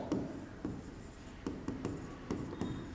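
Several short bursts of chalk or marker writing on a board, arriving in uneven strokes with brief pauses between them and fairly close, heard alone without speech.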